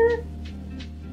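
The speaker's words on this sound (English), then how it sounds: "It's my cat. We got a kitten." Small kitten meowing nearby, a short cry at the start followed by faint breathy sounds over a low steady room hum.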